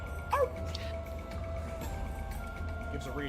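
A person imitates a reassuring dog bark in a tabletop role-playing session, a single short yip-like vocal burst near the start, followed by quiet room noise and faint murmuring.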